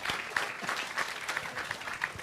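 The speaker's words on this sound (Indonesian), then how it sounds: "Ya, tepuk tangan." A seated audience at a discussion forum breaks into applause, a moderately faint patter of clapping hands, somewhat uneven, with several sharper claps standing out over the short burst.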